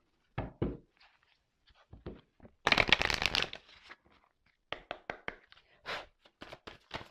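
Tarot cards shuffled by hand in a quiet room, with bursts of riffling and a longer dense cascade in the middle, then sharp separate slaps and taps as cards are cut and laid down.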